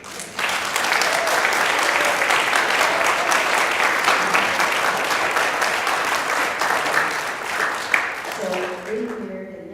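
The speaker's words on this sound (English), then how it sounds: "I'd like to have everybody give her a round of applause of appreciation." Audience at a church talent show applauding, a loud dense burst of clapping that starts abruptly, holds steady for several seconds and then tapers off as a voice begins speaking.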